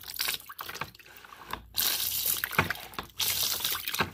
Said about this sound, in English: This pump here draws water out of the tank and sprays it from the dual sprayer.